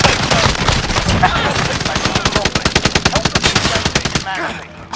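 Sustained automatic gunfire in Call of Duty: Warzone during a Halloween event, a loud, rapid, evenly spaced burst of shots that stops abruptly near the end, with a voice shouting over the opening.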